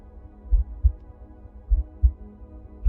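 Slow, deep heartbeat in a guided meditation, paired low thumps repeating at a calm pace over a soft background hum.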